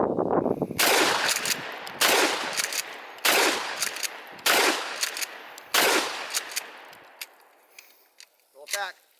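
Gunshots from a firearm fired outdoors while camping, several loud sharp reports spaced about a second apart, each trailing a long echoing decay, ending with a brief voice.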